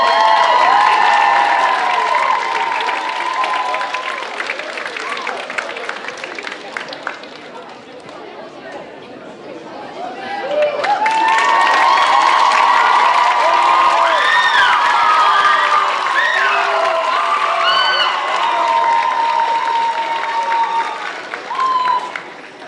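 A school show audience at Kose Gümnaasium's PlayBox 2022 claps and cheers loudly, with shouts and whoops over sustained applause that dips briefly midway and then swells again.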